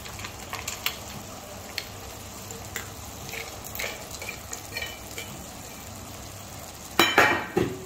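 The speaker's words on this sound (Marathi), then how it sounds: "हे मनुके टाकू आणि हे आपण बदाम आणि काजू तळून घेतले होते ते पण टाकू." Raisins and fried almonds and cashews are stirred into carrot halwa in a pan, giving faint scraping and soft sizzling, with brief clinks of a spoon, and louder stirring near the end.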